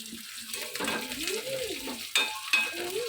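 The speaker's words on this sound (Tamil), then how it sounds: "சின்ன வெங்காயம் அழகாக பொறுன்னு வதங்கிட்டு இருக்குது" Small onions sauté in a pan for bitter gourd theeyal gravy: a close, continuous sizzle broken by scraping stirs and a couple of sharp spoon clinks, with a faint tonal sound running underneath.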